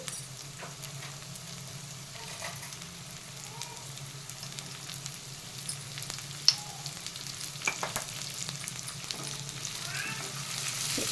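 Fenugreek leaves fry in a pan with a little salt for an egg and fenugreek curry, giving a quiet, continuous sizzle with scattered pops and light stirring clicks, growing slightly louder toward the end.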